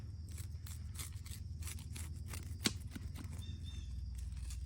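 A crisp-crusted pizza baked in a campfire oven is cut with a run of quick, faint, crunchy cutting sounds. The scraping clicks are close and quiet over a low background hum.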